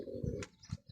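Pigeons coo in soft, low, repeated bursts close by, a pair of birds in a loft, with faint rustling between the calls.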